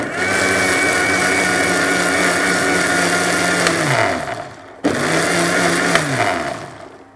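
A blender purées a soup with thickener mixed in. The motor whines loud and steady, winds down for a moment, then starts up again and runs before slowing near the end.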